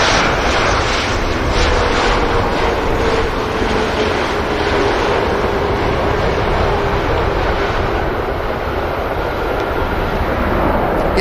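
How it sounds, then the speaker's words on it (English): A Ryanair airliner rolls out along the runway after touchdown at Manchester Airport, a steady, loud broadband engine roar with a faint falling whine running through it, continuous and alone for the whole stretch. "Ryanair rolls out."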